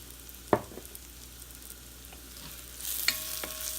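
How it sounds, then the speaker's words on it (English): Thyme sautéing in oil and butter in a pan, a soft steady sizzle with a few light clicks of stirring, growing brighter and louder toward the end. "I'd like to add it in and let the oil and the butter kind of saute the herbs just to bring out the flavor."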